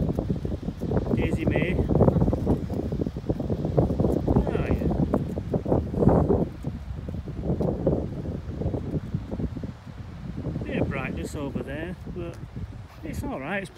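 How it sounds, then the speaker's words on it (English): Wind gusting across an exposed hilltop above the sea at Bridlington, a steady buffeting roar rushing over the microphone for the whole stretch, easing briefly near the middle before picking up again. "as you can see and hear, it's a bit windy up top"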